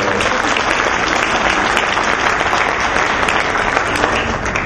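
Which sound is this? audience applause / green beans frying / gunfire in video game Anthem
audience applause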